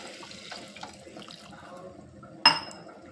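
A glass of water is tipped into a simmering potato and green pea curry: one short, sharp splash near the end, following a quiet, low background.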